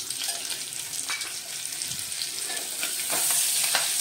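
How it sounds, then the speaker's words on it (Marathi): Garam masala and curry leaves roasting in hot oil for a spicy Maharashtrian katachi amti, giving a steady close sizzle with light stirring scrapes, growing slightly louder toward the end. "हे व्यवस्थित भाजून घेऊया आपण."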